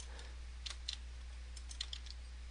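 Quiet typing on a computer keyboard, a few light scattered key clicks over a steady low electrical hum, close but faint, with no voices.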